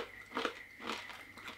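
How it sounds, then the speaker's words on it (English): Rye bread chips seasoned with chili salt are crunched between the teeth up close, giving a few quiet, crisp bites spaced about half a second apart with no talking. "So this is rye bread chips. Are they good? They're crispy."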